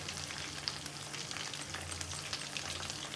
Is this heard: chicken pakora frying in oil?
yes